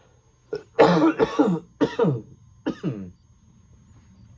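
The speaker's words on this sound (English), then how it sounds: "That's the cough I'm fighting with." A run of several close, harsh coughs in quick bursts, then a final pair after a short pause, fairly near in a quiet room.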